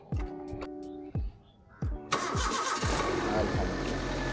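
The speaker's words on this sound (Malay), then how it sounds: "Okey, dah boleh cuba try start dah" Proton Preve car engine starting after a battery replacement: several short cranking bursts, then the engine catches and settles into a steady close idle.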